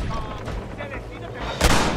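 Gunfire in Red Dead Redemption cracks out in a burst near the end, with a voice talking under the game's background noise.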